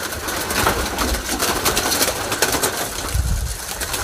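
Racing pigeons coo softly inside a loft amid a dense, constant backdrop of bird noise and occasional wing rustles, with no talking.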